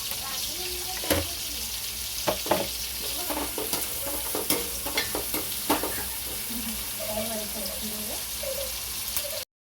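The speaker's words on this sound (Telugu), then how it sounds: "ఇవన్నీ బ్రౌన్ కలర్ వచ్చేదాకా ఫ్రై చేసుకుందాం." Ingredients for chicken dum biryani fry in a pan until brown, a steady close sizzle broken by sharp scraping clatters of a stirring spoon, with faint voice-like tones underneath.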